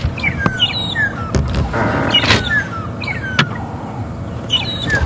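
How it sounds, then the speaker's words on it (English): Magpie shrikes call in the open outdoors, giving loud, close, repeated whistling and squealing notes in quick phrases, with a few sharp clicks between them and no talking. "Those are the magpie shrikes. And just listen to their call."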